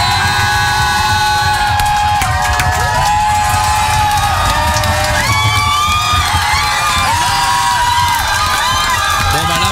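A concert-style audience screams and cheers at a radio show party, with continuous loud, shrill crowd roar and whoops filling the whole stretch, voices shouting over it.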